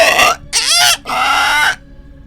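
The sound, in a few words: voices imitating an owl screeching back and forth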